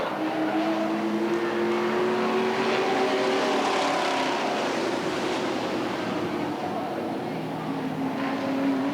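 Street stock race cars at Redwood Acres Raceway during a 1989 heat race, a steady, loud, blended roar of engines droning past without a break, with a broad rushing wash over the whole stretch.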